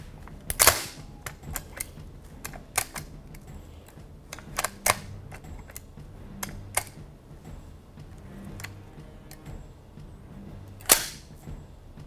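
Model 1897 pump-action shotgun firing, a series of sharp irregular reports spaced across the stretch, one louder than the rest, with faint mechanical clicks between and no talking.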